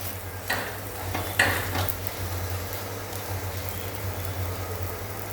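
Barnyard millet pancake (upvas dhirde) cooking on a pan after being flipped, giving a steady soft sizzle with a couple of brief scraping clicks near the start; no talk.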